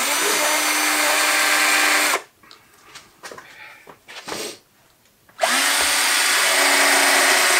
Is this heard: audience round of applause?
no